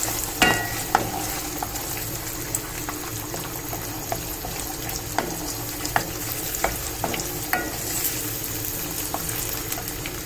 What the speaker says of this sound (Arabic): نخلط جميع المكونات